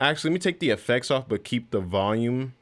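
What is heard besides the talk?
None of the usual background noises is heard.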